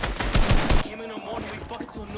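A rapid burst of close video game gunfire hammers for under a second, then gives way to quieter game sounds and faint talk.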